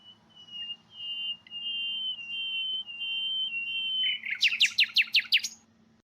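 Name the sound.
nightingales singing whistle songs in the wild, Germany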